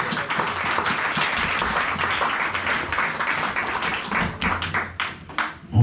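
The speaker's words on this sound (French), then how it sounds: "Acclamons très très fort le Seigneur." Church congregation breaking into dense, sustained applause, a continuous wash of many hands clapping that thins into scattered claps near the end.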